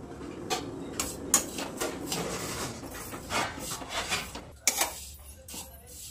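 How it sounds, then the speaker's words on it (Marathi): Poha, flattened rice, dry-roasted in a pan on low gas, with scattered light scraping, ticking and clinking of the spatula against the pan, soft and close with irregular bursts. "बारीक गॅसवर मस्त पोहे भाजून घेऊ असं कडक होईपर्यंत"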